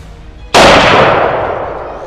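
A single loud, sharp gunshot rings out during an exotic game hunt in West Texas, a sudden crack followed by a long, fading echo across open country.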